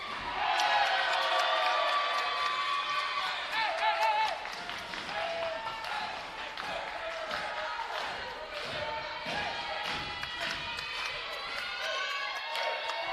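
Crowd cheering at a college basketball game between East Georgia State and South Georgia Tech, with the men's basketball team in the cheering section: steady shouts and claps under a commentator's voice, with occasional ball bounces.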